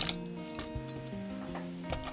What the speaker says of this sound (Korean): 납작하게 썰은 무를 끓여줍니다